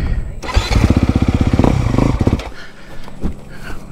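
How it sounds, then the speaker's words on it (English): A KTM motorcycle engine revs hard, its rapid pulsing firing note rising and falling up close for about two seconds before dropping back to a rough, uneven idle. "Got the KTM revving."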